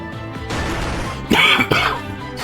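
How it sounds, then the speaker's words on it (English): Two harsh coughs, close and loud, break through a steady hum of game music, one right after the other. "Sorry for the coughs, y'all."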